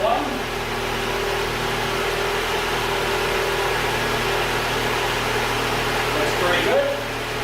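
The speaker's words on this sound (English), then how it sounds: "And we'll go start the engine." A car engine idles steadily during an ignition coil test with the trigger set to about 10,000 volts, a constant mid-pitched hum with an electrical whine, close and fairly loud, no talking.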